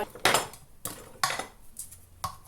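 Salmon pasta in a creamy sauce being stirred in a pan, several separate scraping and clinking strokes of a utensil against cookware, close and fairly clear.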